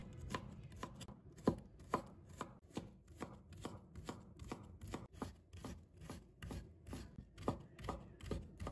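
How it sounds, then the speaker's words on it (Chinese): Knife chopping king oyster mushroom into thin strips on a board, a steady run of quick, crisp cuts repeating about every half second, close and clear with no talk. "然后切成细丝"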